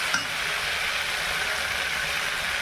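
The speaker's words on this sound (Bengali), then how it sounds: "মশলাটা একেবারে তেলের মধ্যে কষিয়ে নিচ্ছি আগে" Spices fry in hot oil in a pan with a continuous, even sizzle, steady and close, with a brief clink near the start.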